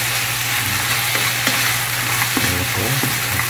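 Fried snacks are tossed and stirred through a seasoning sauce, producing a constant sizzling hiss with scattered scraping and clattering stirs over a low steady hum.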